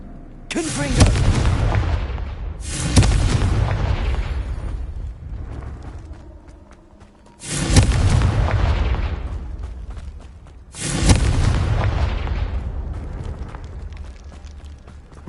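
Confringo fire spell explosions in the video game Hogwarts Legacy, four loud booming blasts spaced a few seconds apart, each with a sharp crack followed by a rumbling tail.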